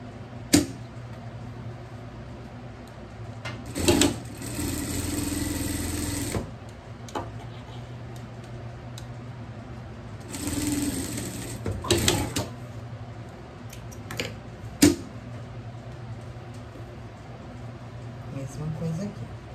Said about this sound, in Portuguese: Vamos pré-espontar aqui essa costura.